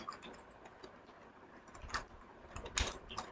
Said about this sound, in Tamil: நான் வந்து டைப் பண்ணுறேன்